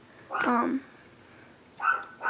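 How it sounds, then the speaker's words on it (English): A dog gives a couple of sharp barks, one early and another shortly after, with a pause of quieter background between them. "She's barking at something"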